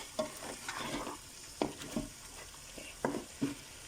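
A spoon stirs thick mutton gravy in a pot, giving soft scraping, sloshing strokes in an irregular rhythm of about eight close, quiet pulses over a low sizzle.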